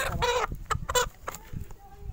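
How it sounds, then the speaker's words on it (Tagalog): A bantam chicken clucks in a quick series of short, close calls, loudest at the start, with softer clucks and rustling farmyard sounds between them. "Papakita ko sa inyo ang ating bantam."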